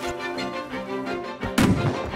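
Gunfire in the survival game Rust during a raid on a clan's roof-camping tower, a dense spread of noise with one louder, sharper blast near the end, no talk over it.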